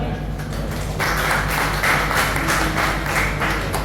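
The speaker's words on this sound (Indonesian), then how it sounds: "Bisa tepuk tangan untuk Tuhan" Mourners at a funeral service clap their hands together, a steady, fairly loud crackle of many hands that swells after a moment and carries on continuously.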